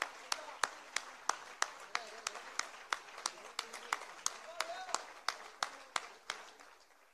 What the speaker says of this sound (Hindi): देखिए तालियां, कृपया तालियां बजाइए।